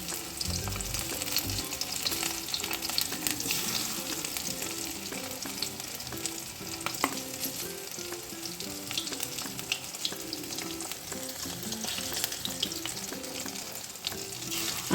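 Amudi fish chops frying in hot oil, a loud steady sizzle and crackle filling the whole stretch, with faint background music and no speech.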